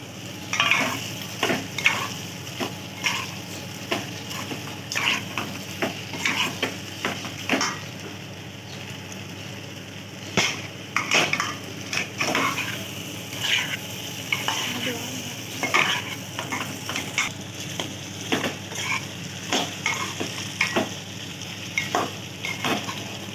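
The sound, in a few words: potatoes frying and being stirred in a pan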